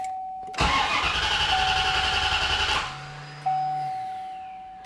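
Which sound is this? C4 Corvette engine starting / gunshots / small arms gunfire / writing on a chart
C4 Corvette engine starting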